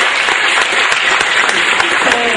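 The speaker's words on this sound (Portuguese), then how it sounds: "Aplausos para a Alessandra aí" Audience applause at a live stand-up comedy show, a dense, steady clapping from a crowd that fills the whole stretch at even loudness.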